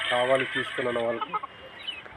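A rooster clucks and calls close by in a string of throaty, harmonic bursts that trail into softer clucks.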